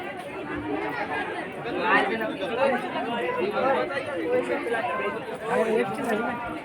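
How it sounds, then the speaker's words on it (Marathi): A crowd of devotees chatters at Nageshwari temple. Many voices overlap in a close, lively, continuous babble throughout. "मंदिरच्या परिसरामध्ये खूप गर्दी आहे दर्शनासाठी सगळे भाविक आलेले"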